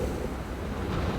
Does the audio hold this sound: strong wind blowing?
yes